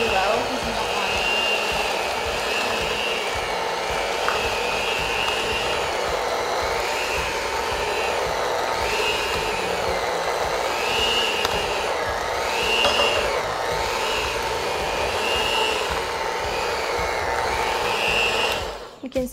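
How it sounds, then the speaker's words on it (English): An electric mixer runs on low, beating chocolate chip cookie dough in a bowl with a steady continuous whir and a faintly wavering pitch for nearly twenty seconds, then cuts off at the end. "you're gonna want to mix this on really low"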